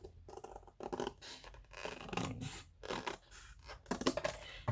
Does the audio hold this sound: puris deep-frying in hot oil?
no